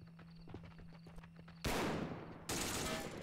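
Gunfire rings out during a World War II assault on Pegasus Bridge in a shooter game, with two sharp, loud shots in quick succession that break through a quieter stretch of distant crackling fire.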